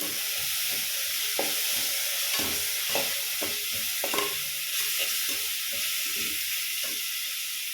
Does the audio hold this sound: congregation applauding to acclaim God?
no